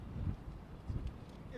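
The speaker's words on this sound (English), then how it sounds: "It's a little windy." Outdoor wind gusting into a microphone at a police news briefing in Albuquerque, a close, low rumbling buffet in two short bursts with a faint voice mixed in.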